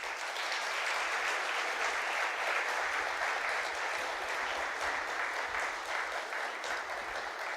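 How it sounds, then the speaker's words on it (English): A large audience at an award ceremony applauds for the winners with sustained, even clapping that fills the room steadily from start to finish without a break. "Let's give a round of applause to all our award winners."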